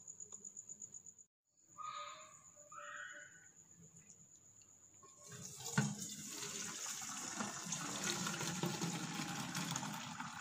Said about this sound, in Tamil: இப்போ இதை எல்லாத்தையும் நம்ம நல்லா வடிகட்டி தண்ணியெல்லாம் எடுத்துடலாம்.